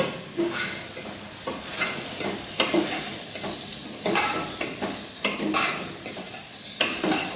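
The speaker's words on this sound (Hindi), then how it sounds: "उसके बाद जो है इसे हिला लेंगे।" Beef biryani masala with tamarind and dried plums is stirred in a frying pan: repeated scraping strokes of a utensil against the metal over a constant sizzle, close and fairly loud, with no talking.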